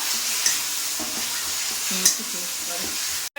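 Browned onion and tomato paste sizzle in hot oil as they are stirred in a pan while a fish curry is cooked, a dense, close hiss with a few spattering pops before a sudden brief cutoff.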